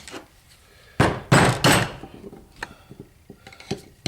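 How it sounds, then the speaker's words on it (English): A long screwdriver is struck to knock a bearing out of an NP208 transfer case, giving several sharp metallic blows close by, two or three loud ones followed by lighter taps and clinks. "we should be able to just knock this bearing out by hitting it with a long screwdriver"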